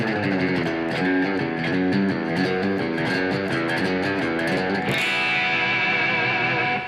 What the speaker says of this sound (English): That's what I use the Halo for. I use reverb to sound like an old reverb.